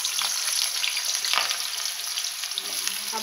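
Potato pieces sizzle and fry in hot oil in a pan for a Bengali chhanar dalna, a steady close crackling hiss with a faint spoon scrape partway through, no one speaking.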